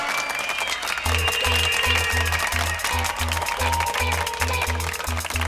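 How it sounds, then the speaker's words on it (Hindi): Clapping from the audience at a televised stunt show, a sustained wash of applause underneath loud music with a thumping, regular bass beat. "जूलियन और फर्नांडो के लिए जोरदार तालियां।"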